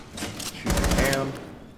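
Gunfire in the video game Rainbow Six Siege: a short burst of rapid automatic shots, loud and close, with a few lighter shots just before it, mixed with game sound.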